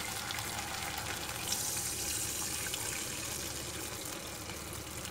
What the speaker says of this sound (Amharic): ሞቅ ያለ ውሃ እናረግበትና ምንም ሳንነካካው እንዲሁ እንደሆነ በደንብ እናበስለዋለን ማለት ነው